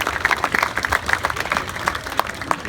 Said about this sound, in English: Big round of applause, everyone.